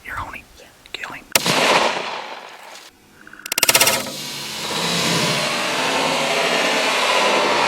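A single rifle shot fired at a coyote on a Texas hunt rings out sharply and echoes after whispered talk, followed by a hissing rush of background noise.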